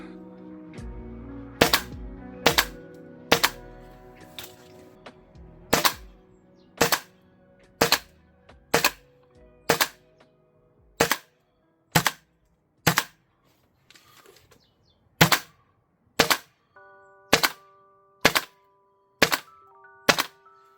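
A gas blowback airsoft rifle firing BBs outdoors at -7°C in winter, about twenty sharp single shots spaced roughly a second apart, loud and close, with faint background tones between them.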